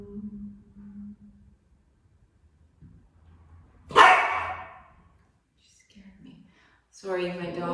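A pet dog gives a single loud, sharp bark close by, breaking an otherwise quiet room, with faint murmurs of a voice before and after it.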